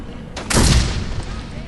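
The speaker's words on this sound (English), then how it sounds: "I just shot him in the ass with a gun" A single loud, close gunshot from Saints Row 2 cracks out and leaves a booming tail that fades over about a second.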